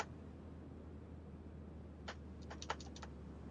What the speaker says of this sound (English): my keyboard's decided to stop working